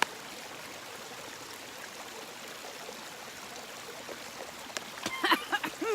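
Water from a dirty-water bag is squeezed through a squeeze filter into a 2-liter bladder on the Appalachian Trail, a soft continuous trickle that turns into louder splashing spurts near the end.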